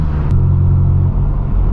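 A straight-piped BMW M4 F82 with an AWE exhaust setup drones loudly and close, a steady low exhaust rumble that shifts tone slightly partway through the short burst.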